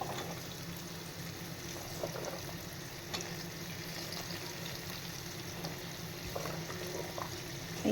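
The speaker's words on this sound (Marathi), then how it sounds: "या कैऱ्या छान असं तेलामध्ये मी फ्राय करून घेणार आहे" Raw mango pieces fry in hot oil, giving a steady, even crackling hiss that stays fairly quiet and close throughout, with a few faint clinks over it and no talking.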